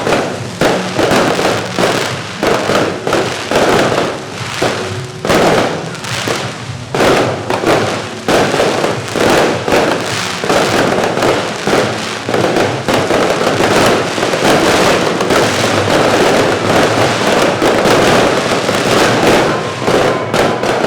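A night fireworks show on Phu Quoc Island, Vietnam, with lasers: a dense, continuous barrage of crackling bangs and thumping bursts, loud and sustained throughout with no talking.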